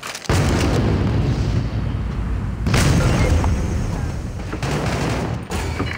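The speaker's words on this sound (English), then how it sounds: "Grenade out!" A grenade blast in the mobile shooter Critical Strike gives a loud, close, booming explosion. A rolling roar follows, with a second surge of blast noise a few seconds later.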